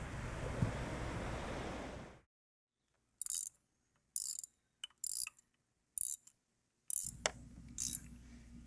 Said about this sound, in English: How do you find anything in this toolbox, bro?